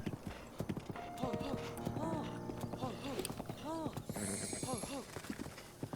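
Horse hooves clip-clopping in the video game Breath of the Wild, a steady close gait with a few whinny-like calls mixed in.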